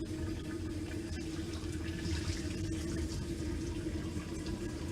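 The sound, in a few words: cold tap water running into the sink while straining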